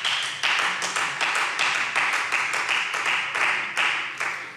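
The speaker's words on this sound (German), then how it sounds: "Applaus" Applause rings out in a parliament plenary session, a brisk, even clatter of many hands that holds steady for several seconds, fairly close and without talk.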